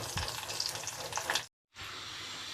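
Prawns fry in hot oil in a wok, a dense continuous sizzle with stirring clatter that cuts off abruptly for a moment, then resumes as a steady hiss.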